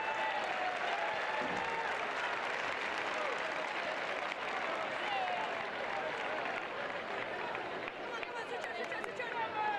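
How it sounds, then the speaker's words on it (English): Stadium crowd at a Chelsea women's football match against Brighton in the FA WSL, applauding in a steady, sustained wash of clapping that sounds broad and somewhat distant throughout. "Crowd enjoyed that one."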